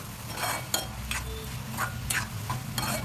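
Carrot halwa being stirred with sugar in a pan, a series of crisp scraping strokes about twice a second over a low sizzle, close and moderately loud, without speech.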